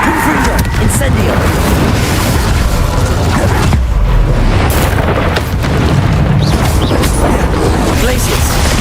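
Spell casts in Hogwarts Legacy, Confringo and Incendio, fire off as dense booming blasts and bursts of magic, loud and continuous over the full stretch with a dense mix of game effects and a voice calling spells.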